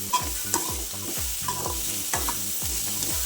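Mixed vegetables for paneer fried rice sauté in a hot pan, a bright continuous sizzle with a regular rhythm of sharp stirring scrapes and clinks, close and fairly loud, with no voices.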